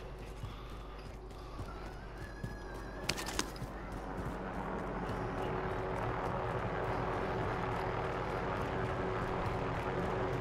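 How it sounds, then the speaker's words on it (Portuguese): A helicopter passes overhead in Call of Duty: Modern Warfare, its rotor rumble rising to a steady, dense drone through the second half, mixed with other game noise. "Um helicóptero aí por cima de ti"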